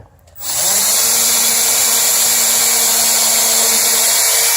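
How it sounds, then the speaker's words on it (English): A power drill starts up abruptly and runs at a steady, loud, high whine, close by and continuous, with no talking. "Make sure you drill straight"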